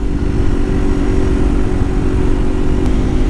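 A 2021 Yamaha TW200 motorcycle rides along back roads, its single-cylinder engine holding a steady, loud droning hum close by with a constant low rumble beneath, with no voices.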